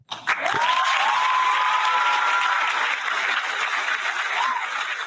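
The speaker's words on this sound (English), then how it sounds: "It's a very enthusiastic, like improv crowd." An enthusiastic improv crowd breaks into loud, sustained applause with cheers and a rising whoop near the start, dense clapping filling the room for several seconds, with faint voices underneath.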